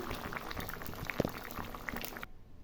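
Thin rohu fish curry broth boiling in a pot: a steady, close bubbling simmer with scattered pops and gurgles, continuous throughout before cutting off sharply near the end.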